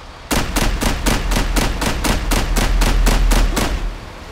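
Rapid, evenly spaced bursts from a military vehicle's mounted weapon in GTA 5, about fourteen loud shots over three seconds, firing alone with no talk.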